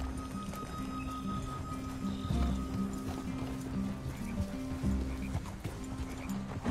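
Horses walk at an easy pace in Red Dead Redemption 2, their hooves clip-clopping steadily and softly on the ground, with a brief snort or whinny amid faint ambient game sounds.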